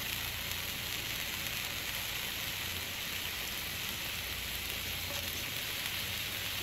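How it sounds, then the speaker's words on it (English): Chanterelle mushrooms sizzle steadily in a pan over a Trangia camping stove in the woods, a constant dense hiss and crackle close up with no talking. "Sizzle."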